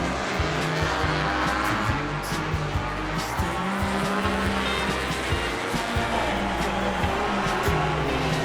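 Racing engines at the MotoGP Japanese Grand Prix, a loud continuous roar of bikes near the track at the finish, with constant high revving and a faint commentator voice underneath.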